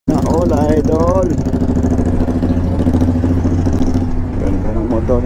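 A motorcycle engine idles close by with a deep, steady rumble, while people talk over it the whole time.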